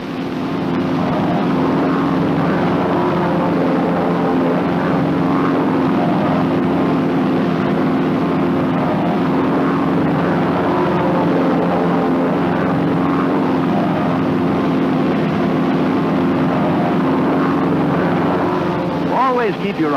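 North American T-6 Texan propeller trainers flying in formation, one going to full throttle to catch up, give a loud, steady radial-engine drone that holds for the whole stretch with no talk over it.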